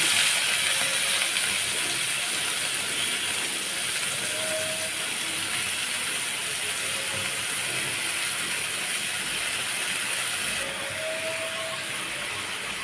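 Onion, garlic and bottle gourd greens sizzle in hot oil in a pan, giving a steady, even frying hiss that carries on throughout with no talking.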